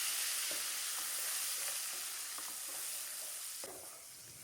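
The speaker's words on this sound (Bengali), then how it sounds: "ওই মাছ ভাজা তেলের মধ্যে দুটো মিডিয়াম সাইজের পেঁয়াজ বাটা দিয়ে দিলাম।" Ground onion paste, two medium onions' worth, sizzles steadily in oil left from frying rui fish, a dense continuous hiss with occasional soft pops and stirring scrapes, close and unbroken, with no voices.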